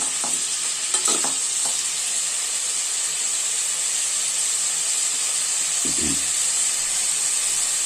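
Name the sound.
stirring masala into raw mango fish curry in pan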